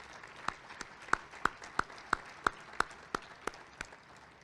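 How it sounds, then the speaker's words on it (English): Audience at a chamber of commerce luncheon in Somerset, Kentucky applauding its chamber ambassadors, a faint, sparse round of claps with about a dozen distinct hand claps spaced out over a few seconds. "Big round of applause for these men and women."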